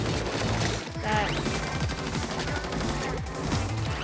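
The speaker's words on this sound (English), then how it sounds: "there's an explosion" A chaotic burst of explosions and rapid popping blasts in a Splatoon 3 Splatfest battle, loud and continuous. Dense crashing bangs repeat throughout, with a few bright swooping tones in the middle.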